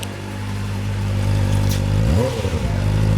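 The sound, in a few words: 2025 Kawasaki Ninja ZX-4RR motorcycle engine revving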